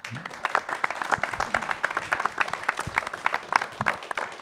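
A hall audience at a local community event applauds steadily for several seconds, with dense, fairly close clapping and a faint voice underneath.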